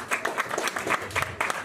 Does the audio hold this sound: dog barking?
no